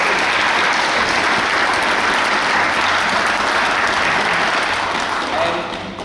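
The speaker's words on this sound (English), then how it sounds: "a round of applause, goes to Uncle Pat" Sustained applause from a crowd at a book launch toast in Dublin, a steady dense wash of clapping that holds for several seconds before starting to thin at the end.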